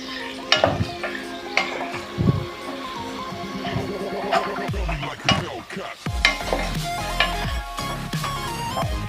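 Prawns frying in a pan with turmeric and rock salt for a gongura prawn curry: steady sizzling with scraping stirs and clinks of a utensil against the pan, moderately close.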